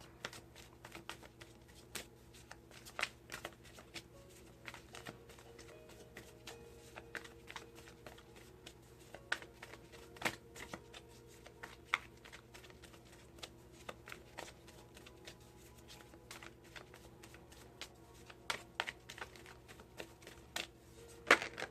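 Tarot cards are shuffled by hand in a quiet room, a steady run of soft, close riffling and tapping patter with occasional sharper snaps, faint and continuous without talk.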